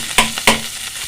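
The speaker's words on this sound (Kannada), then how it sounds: "ಹಾಗೆ ಈಗ ನಾನು ಒಂದೆರಡು ಎಸಳಷ್ಟು ಬೆಳ್ಳುಳ್ಳಿ ಇದ್ದೀನಿ ಹಾಗೆ ಇದಕ್ಕೆ ಘಮ ಕೊಡೋಕ್ಕೆ ಕರಿಬೇವು ಸೊಪ್ಪು ಹಾಕ್ತಾಯಿದ್ದೀನಿ" Garlic and curry leaves hit hot tempering oil for a village-style ridge gourd peel chutney, two sharp crackling sizzles in quick succession, close and loud, then a fading hiss, no voices.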